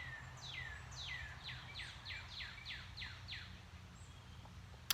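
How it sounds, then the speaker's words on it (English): A loud, unidentified bird sings a run of about nine repeated, evenly spaced downward-sweeping whistled notes, fairly close, over a steady low background rumble. "We have a very noisy bird."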